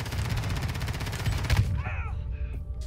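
Rapid automatic gunfire rattles in the video game Call of Duty, a fast burst of shots that cuts off partway through, followed by fainter game sound effects.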